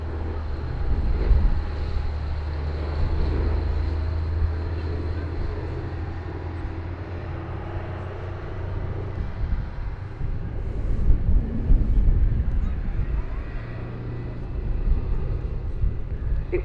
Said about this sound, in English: here we started with Boeing B-17G Flying Fortress,